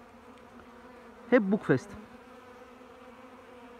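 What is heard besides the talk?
honey bees buzzing at an apiary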